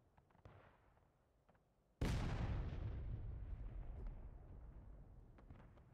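A massive artillery blast of Civil War canister shot in War of Rights hits suddenly after a stretch of quiet battlefield ambience, then rolls out into a long, loud rumbling decay.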